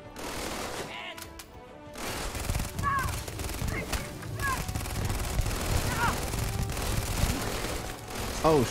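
Minigun fire in Starfield: a sustained, loud stream of rapid shots with short mechanical whines between bursts, with a voice talking over it.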